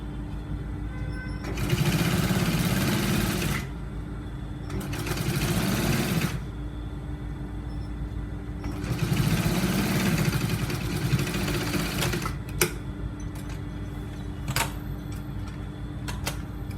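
A sewing machine stitches fabric for a button-up shirt with a collar, running in several steady whirring bursts of a few seconds each over a low constant hum, with clicks and pauses between runs.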